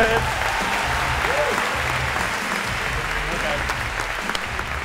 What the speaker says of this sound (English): a round of applause for Andrea if we could